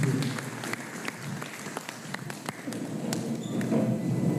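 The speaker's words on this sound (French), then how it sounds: "Sous vos vibrantes acclamations, mesdames et messieurs." Audience applause and cheering at a ceremony launching the Octobre Rose 2025 campaign in Gabon, a steady mid-level wash of clapping with scattered sharp claps throughout, slightly swelling toward the end.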